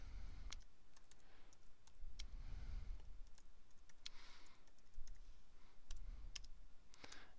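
Clicks of a computer keyboard as text is typed into a Dreamweaver CS4 page layout, a quiet, irregular patter of keystrokes with soft low rumble between them and no talk.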